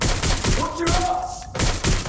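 Gunfire in Watch Dogs Legion comes as loud bursts of shots at the start and end, with a short quieter stretch between them and game voices talking over it.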